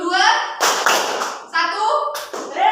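A classroom of children claps in short bursts for a clap-counting game, the sharp claps arriving in quick groups between a teacher's spoken count, close and lively.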